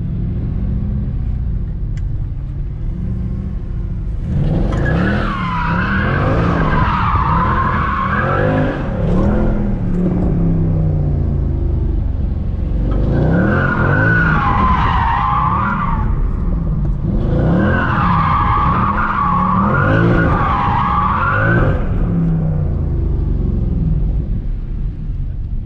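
A bagged Mercedes C63 AMG drifts on a well-lit lot, its engine roaring and tires squealing loudly in three long skids separated by rumbling revs.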